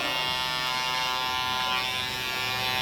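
An electric shaver runs continuously, cutting hair close up during a high skin fade haircut. Its steady buzz stays loud and even throughout, with no speech.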